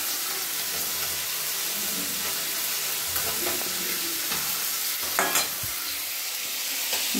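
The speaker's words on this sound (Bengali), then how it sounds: "মূলো শাক ভাজা হয়ে গেল" Radish greens fry in a pan with a steady, even sizzle, broken now and then by the scrape and clatter of stirring, and nobody speaks.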